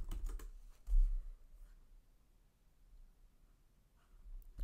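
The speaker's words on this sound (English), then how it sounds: "I'm going to type in Happy Easter." Fingers tap on a computer keyboard, typing a search word into a design program, a few soft close clicks and light keystrokes that thin out into quiet near-silence with no talking.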